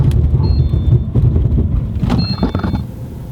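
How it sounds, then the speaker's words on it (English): A car brakes hard from 80 with ABS engaged, heard from inside as a rumbling road and cabin noise with uneven low pulsing and faint tire squeal. "brake really hard and engage the ABS braking system in the vehicle"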